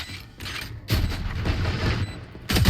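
Gunfire from an online shooter match, dense bursts of shots and booming impacts in quick succession, loud and close, with short gaps between volleys and no speech.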